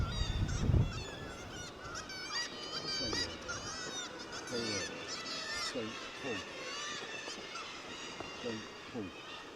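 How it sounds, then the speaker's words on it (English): Nesting gulls call along a rocky coastline near the Bullers of Buchan: a steady chorus of many harsh, overlapping cries at middle distance, with a close low thump at the start and people talking faintly underneath. "I think they're gulls that are nesting around here,"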